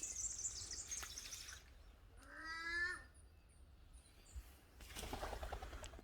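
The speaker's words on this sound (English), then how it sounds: "Birds chirping." Birds call among big old red gums beside a running creek in the Australian bush: a short burst of clear descending chirps in the middle, with fainter high calls after it over steady outdoor ambience.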